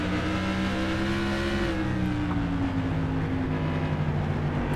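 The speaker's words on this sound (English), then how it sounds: "So you can hear him lift off the brake for a second." A modified race car engine in the iRacing video game drones steadily, its pitch dipping and shifting partway through as the brake lifts, a continuous mechanical whine with no voices.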